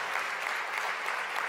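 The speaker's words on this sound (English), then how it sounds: "Definitely deserving of applause" Audience applause at a live progressive political debate, steady dense clapping that holds at an even level throughout a short burst, heard at a slight distance.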